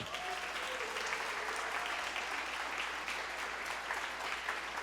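A church congregation claps for Jesus in sustained, dense applause that holds steady throughout, filling the room with many hands at once.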